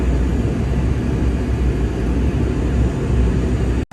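Boeing 767 engines climbing out after takeoff inside a full-motion flight simulator: a loud, steady broadband roar and low rumble held throughout, dropping out briefly near the end.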